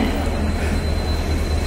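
A Diva–Roha MEMU electric passenger train pulls into a station platform, its steady low rumble and rolling rail noise filling the scene at close range with no talk.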